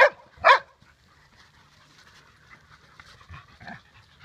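Dog barking, two sharp loud barks close by at the start, followed by quieter panting and faint whimpering yips.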